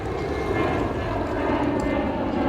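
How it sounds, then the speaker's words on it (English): A plane taking off from Palma Airport in Mallorca, a loud continuous engine roar close overhead that holds steady throughout, with no talk. "I can just see a plane taking off here from Palma Airport"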